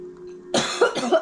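A short burst of coughing, two or three rough, breathy hacks close to the listener after a quiet moment.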